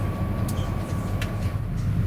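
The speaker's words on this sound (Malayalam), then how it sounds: "ട്രെയിൻ ഇപ്പോൾ ബിറ്റർഫെൽഡ് എന്ന വലിയൊരു പട്ടണത്തിലേക്ക് അടുത്തുകൊണ്ടിരിക്കുകയാണ്" A train runs on rails through the outskirts of Bitterfeld, Germany, giving a steady, continuous low rumble with faint higher rattles and no voices.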